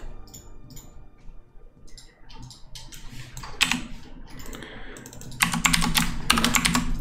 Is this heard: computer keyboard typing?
yes